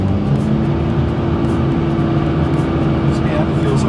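BMW E36 328i with a turbocharged M52 engine holding a steady drone on a dyno at around 2000 RPM, a loud continuous low hum with faint talk over it.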